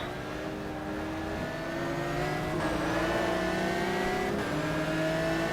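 Race car engine in the GTR 2 FIA GT racing game, a loud, steady close-up whine rising in pitch through the gears, with short shift breaks and no talking.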